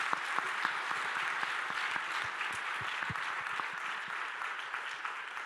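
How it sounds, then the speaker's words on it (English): An audience at a sustainability report launch applauds a panel of company leaders, steady fairly faint clapping from many hands that holds for several seconds with no talk. "Please give them a warm round of applause."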